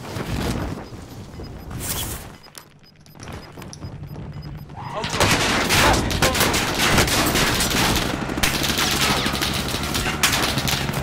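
Warzone Duos match with bursts of automatic gunfire and shots, dense and loud through most of the stretch, with a brief lull near the start before sustained firing resumes; players talk over it.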